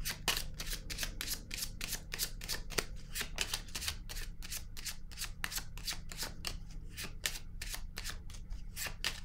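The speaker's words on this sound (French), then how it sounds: "Je vais piger une autre carte." Tarot cards are shuffled by hand with a fast, regular riffle of crisp card flicks repeating steadily throughout, close and clear over a low background hum, with no talking.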